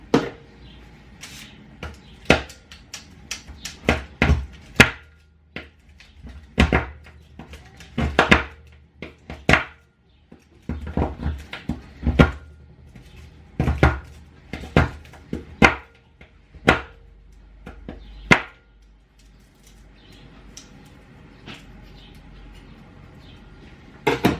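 A knife chops through a homemade brownie on a board in a series of sharp, close, irregular knocks and taps, clustered in bursts with short pauses between them, then tapering off near the end.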